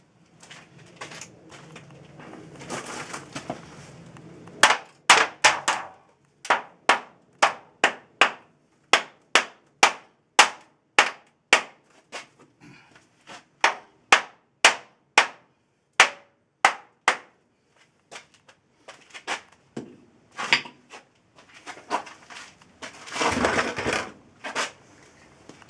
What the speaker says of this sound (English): Where's my little 3-pound hammer?